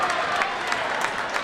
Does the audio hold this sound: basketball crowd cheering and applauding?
yes